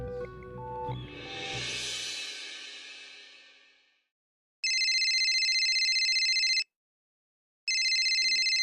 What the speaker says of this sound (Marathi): डॉलीबाईंचा फोन